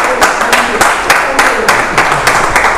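Audience applause greeting a speaker's wife at a motivational talk, with loud, steady clapping from a crowd and sharp hand claps pulsing in a regular rhythm throughout.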